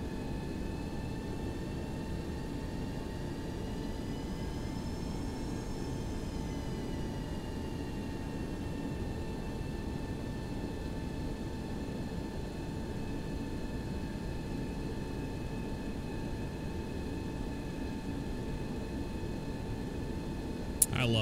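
Boeing 727 taxiing at night in the X-Plane 11 flight simulator: a steady, unbroken jet engine whine and broadband rumble with sustained tonal hums, constant throughout, with a brief click at the very end.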